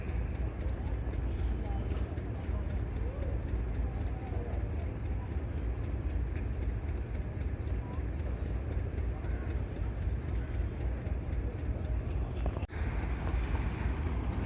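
An HBU20 diesel locomotive heading a train at Rawalpindi railway station gives off a continuous low engine rumble, with a brief clank near the end, while someone talks over it throughout.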